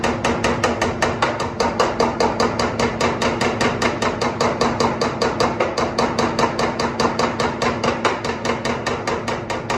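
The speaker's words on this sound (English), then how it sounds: "you're going to hammer out the areas that you need" Shaping hammer striking a sheet metal hood patch panel in a steady, rapid rhythm of sharp metallic blows, close and loud, continuing throughout without talk.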